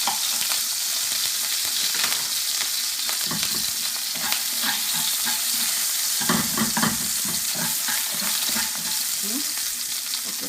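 Slightly frozen ginger sizzles in hot olive oil as it is stirred for a vegetable chow mein, making a loud dense hiss with scraping and spattering bursts, close up and without speech.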